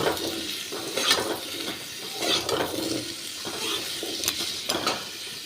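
Potato pieces frying in oil in a pan for a light fish curry, a steady soft sizzle with occasional stirring clinks and scrapes.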